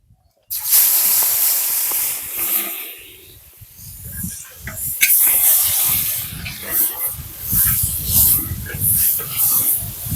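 Chopped onion hits hot tempering of cumin and bay leaf in oil over a wood fire, bursting into a loud sustained sizzling hiss that settles into a steady crackling fry, with a voice talking over it.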